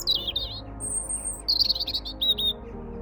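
A bird chirps from a perch early on a chilly morning at an allotment plot, with bright repeated tweets and short trilling phrases close by over a low background hum.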